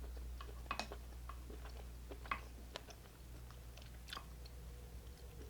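Close, wet chewing and biting of a deshelled seafood boil made with vegan butter, with a few sharper crunchy bites standing out over a steady low hum; no talking.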